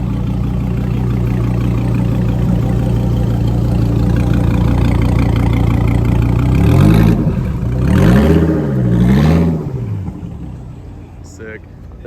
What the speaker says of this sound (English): This one, yeah, 3rd gen Viper heading on out. A little bit of noise from it too.